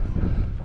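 A brief, strong gust of wind on an outdoor building site where a modular house roof is being fitted, a dense low roar pressing against the microphone.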